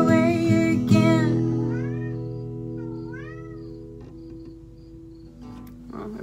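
A cat lets out a few drawn-out, rising meows over the fading ring of a guitar chord, the calls fairly close and spaced apart, with light strums near the start and end.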